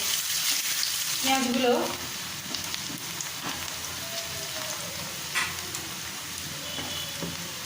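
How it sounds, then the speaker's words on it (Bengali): Steady crackling sizzle of chopped onions frying in hot oil until reddish for mocha chicken, continuous and close, with a few faint clinks and stirring scrapes. "পেঁয়াজ কুচিগুলো লালচে করে ভাজবো।"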